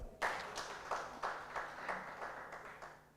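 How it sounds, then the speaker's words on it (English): A conference audience at a national adolescent health stakeholders dialogue clapping for itself, a soft rhythmic pattering of hands in a large room, a little distant, slowly fading. "Can we clap for ourselves?"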